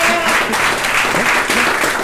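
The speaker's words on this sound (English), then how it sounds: "Give a big round of applause for both of them." A tech meetup audience gives a round of applause, a dense continuous patter of many hands clapping nearby that lasts a couple of seconds with faint voices mixed in.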